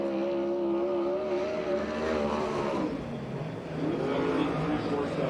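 A 360 sprint car with a Gardner-built sled chassis and Downing racing engine running a qualifying lap at Perris: a loud, sustained engine drone that rises and falls in pitch as it circles, distant and droning at the end.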